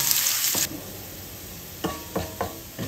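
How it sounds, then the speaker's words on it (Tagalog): Garlic sautés in hot oil in a pan, a bright steady sizzle up close at first, then a quieter hiss broken by a few sharp scraping stirs of a utensil toward the end. "Gisa po muna tayo ng bawang. Golden brown po natin."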